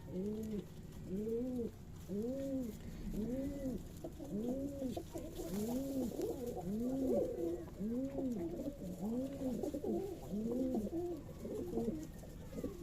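Giribaj and racing pigeons on a Rajshahi pigeon farm coo in a steady, repeating rhythm of soft rolling calls, several birds overlapping close by against a low background hum.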